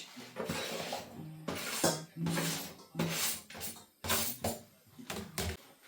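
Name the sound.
vegetables put into a pan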